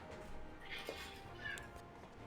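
A loud cat meows indoors a couple of times, drawn-out and fairly close, over a faint background hum with some soft talk underneath.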